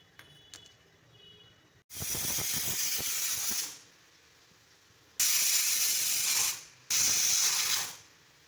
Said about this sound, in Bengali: আমি 3টি সিটি দিয়ে নিয়েছি।